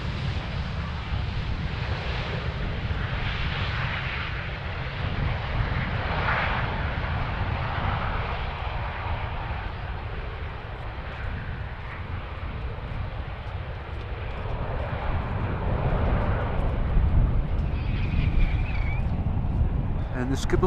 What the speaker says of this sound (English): Meanwhile, another plane is landing on our runway.